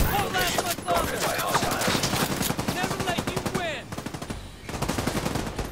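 Rapid pistol gunshots in The Division 2 video game, a dense run of sharp repeated shots firing steadily for several seconds, loud and close, with a brief pause near the end before firing resumes.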